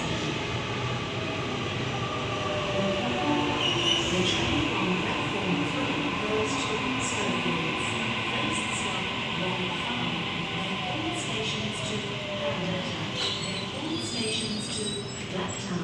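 Train at a platform in a Liverpool station, a steady rumble of rolling stock with squeals and clicks of wheels and brakes, fairly close, with voices faintly underneath.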